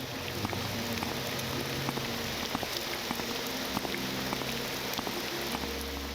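Steady rain falls in the open world of the video game Morrowind, a dense, even patter of drops hitting surfaces that runs without a break, with a few faint low game tones underneath and no voices.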